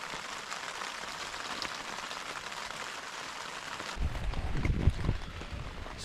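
Rain falls outside a tent at a camp, a soft, steady patter of drops on the fabric, with heavier, closer thumps and rustling near the end.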